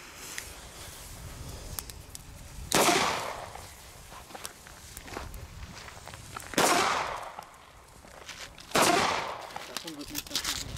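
Three loud, sharp blasts from Fire Event A-Böller firecrackers come a few seconds apart outdoors, each with a decaying tail, with faint rustling and small knocks in between.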